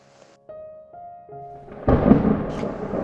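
Cartoon-style thunder in the sky: a few soft tones lead into a sudden loud, low rumbling burst that rolls on to the end.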